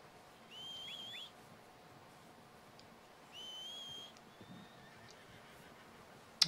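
A horse in the video game Red Dead Redemption 2 whinnies twice, each high, wavering neigh lasting under a second and separated by a few seconds of quiet outdoor ambience, with a faint whistle and a soft thump near the end.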